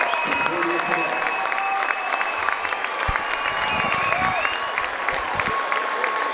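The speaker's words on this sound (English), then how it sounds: "Ladies and gentlemen, please give these gentlemen one more round of applause." Crowd in a high school gym at a boys basketball game applauding a state championship football team, sustained clapping and cheering throughout with an announcer's voice heard over it.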